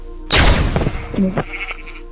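Sheep bleat in a Turkish-language island adventure video game, a loud, close, wavering cry lasting about a second with a short second bleat, heard alone.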